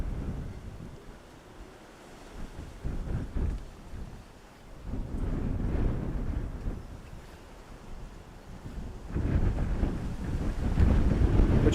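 Strong gusty wind from Storm Floris buffets the open air at Dublin Airport, rising and falling in low rumbling surges that build louder toward the end.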